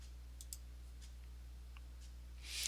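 A computer mouse gives a few faint, sparse clicks against a quiet background hum, with a brief louder rustle at the end and no speech.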